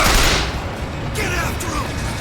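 Gunfire in the video game BioShock Infinite, a dense burst of shots at the start that continues more sparsely beneath a steady game background, with talk nearby.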